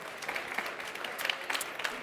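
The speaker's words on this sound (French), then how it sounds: "Venez me rejoindre sous vos applaudissements." Applause from a conference audience greeting a guest invited on stage, a steady, fairly faint patter of many hands clapping with no voices over it.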